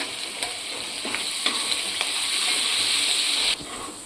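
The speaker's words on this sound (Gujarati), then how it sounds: "હવે આપણે આદુ છીણીને લીધું હતું એ નાખીશું" Grated ginger dropped into chopped chili and garlic frying in a pan over low heat, a steady close sizzle with several light taps and scrapes, no talking, the sizzle dropping sharply near the end.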